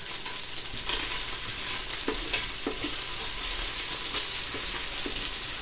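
Beef sears in a soup pot, giving a constant loud sizzle with a few stirring knocks and scrapes, heard alone without voices.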